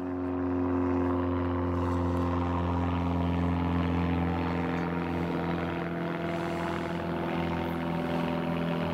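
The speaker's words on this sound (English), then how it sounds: "another blooming plane going over" A propeller airplane drones steadily overhead above a fishing spot, a low, even engine hum that holds at moderate volume, fairly distant and alone with no talk.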